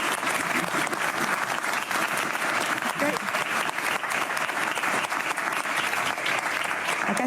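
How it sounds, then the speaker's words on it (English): Steady applause from an audience at a Denmark press conference on Greenland, filling the room evenly for several seconds at moderate volume with no pause. "we love the applause"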